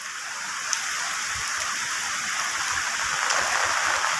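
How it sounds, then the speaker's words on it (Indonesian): Rain falls with wind in a rural village in Trenggalek, making a constant, even hiss of dense drops that stays steady throughout, with no voices. "hujan angin"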